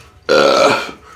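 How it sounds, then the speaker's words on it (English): A single loud burp erupts suddenly and rolls on for most of a second before trailing off with a faint echoing tail, heard alone during The Last of Us Part II on a boat. "You just hear those burps echo in the distance."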